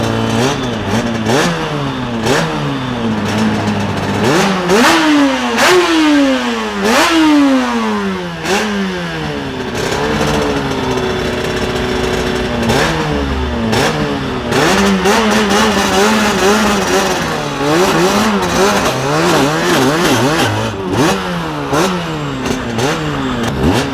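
Onboard a Suzuki RG500 two-stroke motorcycle on a night ride, the engine revs hard and falls back again and again through gear changes, a loud, continuous rising-and-falling wail that fills the whole stretch with no talk.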